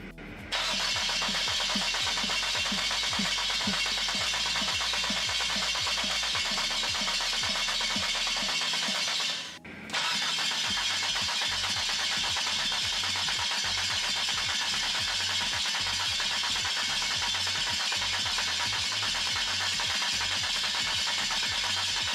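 A diesel TDI engine in a Willys Wagon on a TJ Jeep chassis is cranked on its first fire-up: a steady, loud starter churn with a brief pause, then continued rough cranking and sputtering. There is no talking.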